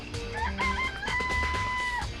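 Chickens in a coop in the Danganronpa video game, with several birds clucking and crowing over a steady ambient game background, close and fairly clear and without any talking.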